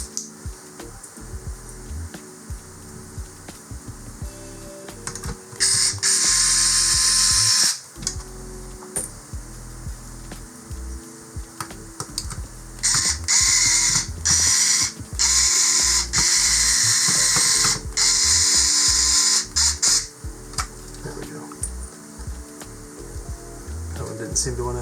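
An electric screwdriver drives small silver screws into a Sega Dreamcast console in loud whirring bursts, stopping and starting repeatedly with mechanical clicks and rattles between runs.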